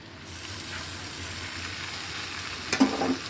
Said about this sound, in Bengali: এখন আমি এটাকে কিছুক্ষণ ভেজে নেব